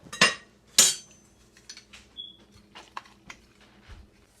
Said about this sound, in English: here I am cutting this pie